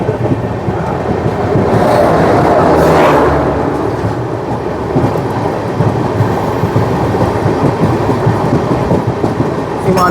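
The Seemanchal Express rushing past at close range makes a loud, continuous roaring rumble with rhythmic wheel clatter, swelling around the third second and holding strong to the end.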